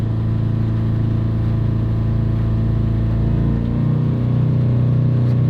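A Subaru car engine runs steadily close by, its low harmonic drone holding even before the pitch drops slightly near the end as the revs ease off.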